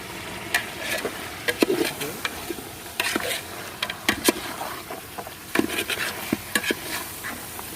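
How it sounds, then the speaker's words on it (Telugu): Marinated chicken for a Mughlai chicken curry frying with ginger-garlic paste and onion paste in a pan. A spoon stirs and scrapes it in irregular strokes over a continuous near sizzle. "ఒకసారి అల్లం వెల్లుల్లి పేస్ట్, ఉల్లిపాయ పేస్ట్ అంతా కలిసేంత వరకు తిప్పుకోవాలి"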